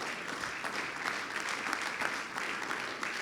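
Congregation applause during a Spanish-language church sermon, a steady wash of many hands clapping at moderate, even volume throughout, with no speech over it.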